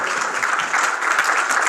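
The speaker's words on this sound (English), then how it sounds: "Let's give them a round of applause." An audience at a school Black History Month celebration applauds students, a thick, continuous roar of clapping held at a loud, steady level for the whole short stretch.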